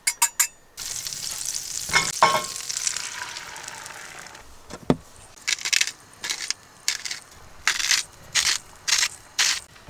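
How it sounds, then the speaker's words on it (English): A small whisk stirring eggs in a bowl, heard as a run of quick rhythmic metallic taps and scrapes in short bursts, close and fairly clear with no talking. "Because I make so many eggs, I went ahead and got this fancy little whisk."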